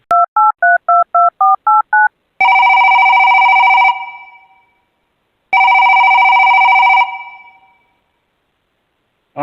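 A phone call is placed: a quick run of about eight touch-tone dialing beeps, followed by two long loud ringback tones separated by silence.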